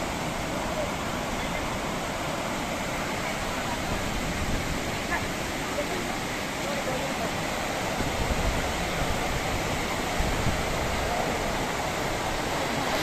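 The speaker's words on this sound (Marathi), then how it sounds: "आणि बघा खाली धबधबा कोसळतोय" Waterfall at Gavli Dev near Ghansoli, Navi Mumbai, pouring down a misty hillside: a loud, steady, broadband roar of falling water that holds unbroken for the whole stretch.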